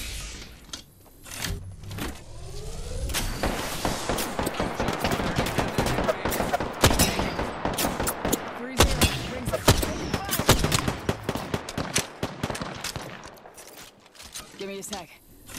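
Dense, continuous gunfire in a video game battle, rapid cracks and bursts layered over one another for the whole stretch, close and loud, with a voice talking beneath the shooting.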